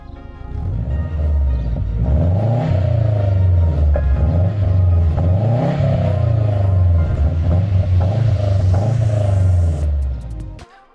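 Subaru-style turbo car with a Turbo XS catback exhaust revving repeatedly, deep rumbling engine note rising and falling in several loud close pulls before cutting off at the end.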